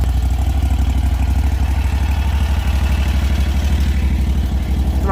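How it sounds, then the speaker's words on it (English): A mini skid steer's engine runs at a steady idle close by, a continuous chugging throb with fast even pulses and no talk over it. "We're moving a wood stove with my mini skid steer"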